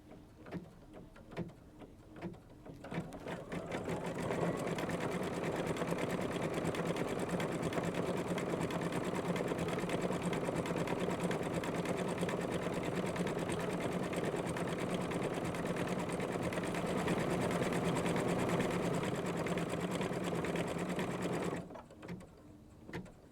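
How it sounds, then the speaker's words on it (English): A sewing machine runs continuously for about twenty seconds, stitching a candle wicking stitch in red thread on a quilt project, with a steady close mechanical whir that starts and stops abruptly. "it's gonna do a more of a candle wicking stitch"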